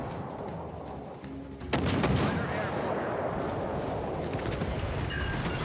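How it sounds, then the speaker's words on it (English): Naval gunfire from warships in World of Warships Legends, a sudden heavy boom that rolls into a long sustained rumble, loud and close, with battle noise continuing underneath. "Firing at the cruiser behind us since he's probably got less health now at this point."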